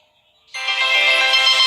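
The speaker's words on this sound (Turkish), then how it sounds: "Biraz fazla zil vardı gibi." A loud, bright electronic ringtone from the game Blockman Go bursts in after a moment of quiet and keeps chiming steadily to the end.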